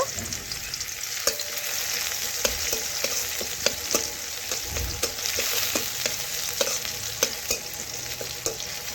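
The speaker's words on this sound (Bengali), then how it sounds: "এখন রসুনও আমি নাড়াচাড়া করে একটু লাল লাল করে ভেজে নেব" Garlic being stirred and fried in a pan for a shushni greens dish, a steady close sizzle broken by regular sharp clicks and scrapes of the spatula against the pan, with no talking.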